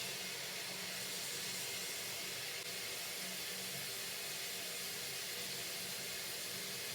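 Root vegetables boil in a pot of water, giving a steady, even bubbling hiss that runs unbroken at low level with no talk over it.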